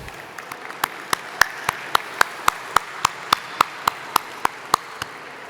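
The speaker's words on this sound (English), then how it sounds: "Can we have a round of applause for our sponsors?" Evenly spaced handclaps at an evening awards ceremony for the 2024 Queensland Architecture Awards, sharp and steady at roughly three or four per second over a soft room hum, with no voices.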